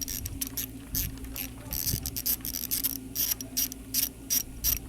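Screws being driven back into the switch gear on a Triumph Bonneville T120 handlebar during a heated grip fitting, a string of quiet close ratcheting clicks in short bursts.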